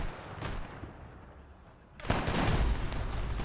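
Gunfire in a military video game: quiet, scattered background until a sudden loud burst of shots that continues densely to the end.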